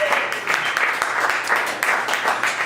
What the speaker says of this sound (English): she knew to come and join me on the stage with a round of applause from the audience as she comes